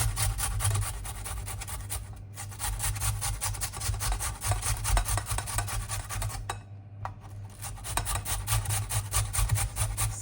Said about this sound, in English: So what I like to do is cut the tomato in half and then grate it.